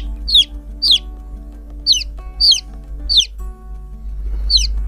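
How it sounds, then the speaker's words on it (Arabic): Baby chick chirping: about six sharp, high peeps spaced roughly a second apart, over a steady low hum with no voices. "تشيب يعني زقزقة الكتكوت."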